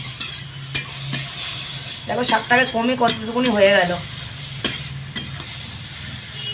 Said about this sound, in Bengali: এবার শাকটাকে ভালো করে একটু ভাজা ভাজা করে নেব।